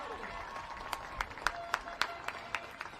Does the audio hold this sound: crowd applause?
yes